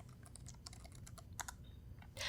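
Keys tapped on a computer keyboard while a DiskPart command is entered at a Windows terminal, a quick irregular run of close, light clicks ending in a louder burst, with no talking.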